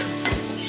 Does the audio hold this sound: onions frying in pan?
yes